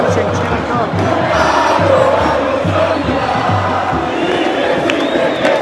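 Dense, loud football crowd singing and chanting in a rhythmic pulse at the Maracanã stadium during a Brazil vs Argentina match, a sustained wall of voices filling the whole stretch.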